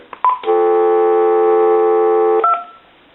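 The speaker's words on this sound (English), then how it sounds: "Take dial tone away." A GE 25881EC telephone on speakerphone gives a short burst of keypad tones, then a steady, loud, continuous dial tone for about two seconds before it cuts off and a brief tone follows.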